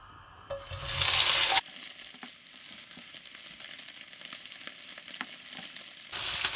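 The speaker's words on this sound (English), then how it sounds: "now the pan is hot and the oil is also hot. I'm gonna add the tofu." Tofu dropped into hot oil in a pan for a Thai stir-fry, a loud close burst of sizzling that settles into a steady crackling fry, swelling again near the end.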